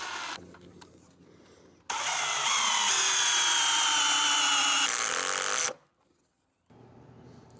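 A power drill drives screws into a wooden pergola in one sustained, loud whirring run of about four seconds, then cuts off, with quieter handling noise before and after and no talking.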